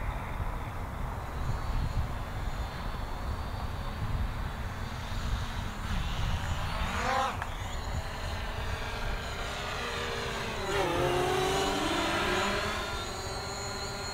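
A small Hubsan Zino drone flies outdoors with a steady high whine that swells and shifts pitch as it turns and brakes, moderately near, with no voices.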